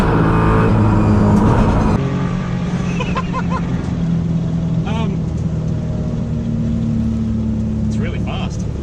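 Supercar and Daihatsu Mira racing a quarter mile: steady engine roar and road noise fill the scene, with people talking and calling out over it throughout.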